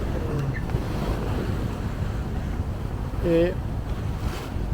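A sailboat under way on the open ocean between Thailand and the Philippines gives steady wind and wave wash with low rumbling water against the hull and microphone wind buffeting, while someone speaks briefly.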